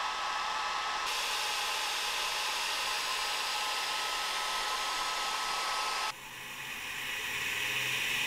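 An Atomstack X20 Pro laser engraver's air assist pump runs at high power, pushing air out the nozzle as a loud, steady rushing hiss that shifts in tone early on, dips near the end, then builds back up, with no voices.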